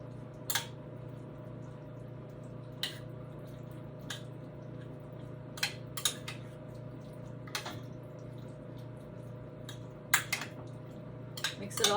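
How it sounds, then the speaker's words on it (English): Green bean casserole with handfuls of cheese stirred in a pot, faint scattered clinks and scrapes of a spoon over a low steady kitchen hum. "Give that a stir."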